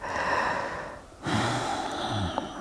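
Deep breathing during an intermediate yoga flow: a slow, airy breath close to the microphone, a short pause, then a fuller audible exhale, with no talking.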